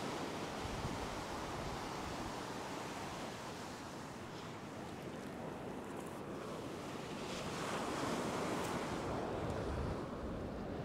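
Ocean surf breaking on a beach during windy shore fishing, a loud continuous roar of rushing water with wind buffeting the microphone, swelling slightly toward the end, no voices.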